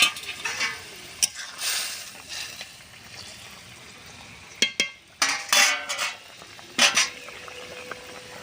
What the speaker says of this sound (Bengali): সেদ্ধ করা রাখা আলু আর ফুলকপিটা ঢেলে দেব। ভেজে রাখা মাছটাও দিয়ে দেব।